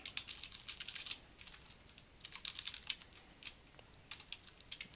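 Rapid keystrokes on a computer keyboard while entering a shell command, coming in quick bursts of clicks with short pauses, fairly quiet and close with no speech.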